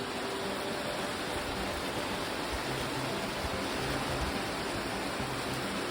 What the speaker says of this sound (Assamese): এইখিনিত বৰষুণ